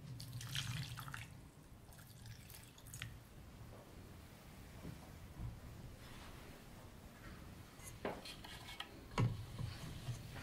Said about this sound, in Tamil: தண்ணி தேவையான அளவு நம்ம ஊற்றிக்கலாம்.